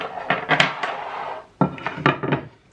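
Pieces of an antique china set, including a butterfly platter, being handled, with several close, sharp clinks and knocks of ceramic set down in two quick clusters.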